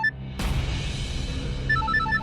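An incoming call sets a phone ringing in a Hindi television drama, with short repeating electronic ringtone beeps heard over a sudden burst of background music.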